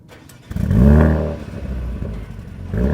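A Mercedes-AMG A35 engine cranks and fires up on a cold day, surging to a loud, deep revving flare, then dropping to a steady idle rumble with a slight rise at the end, heard up close.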